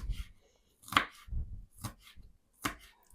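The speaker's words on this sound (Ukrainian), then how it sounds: "Цибулю у звичайний спосіб. Нарізаємо. Наскільки можна дрібніше." Onion being chopped as finely as possible on a cutting board with a knife, four distinct, separated knife strikes landing against the wood at an uneven rhythm, close and fairly quiet.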